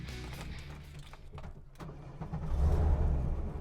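A modified Porsche 993 built to mimic a Carrera RS fires up in the rain, its engine catching and settling into a loud, rumbling idle that swells toward the end over steady background hiss.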